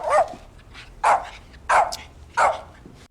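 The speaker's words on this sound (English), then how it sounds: "There's the dog." A dog barks in an episode of the TV drama The Wire: four sharp, close barks in an even rhythm, about two thirds of a second apart, with quiet gaps between them.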